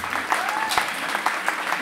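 Audience clapping during scoring at a poetry slam semifinal in Bayreuth, a lively, uneven patter of many hands with sharper individual claps popping out, while a voice speaks over it.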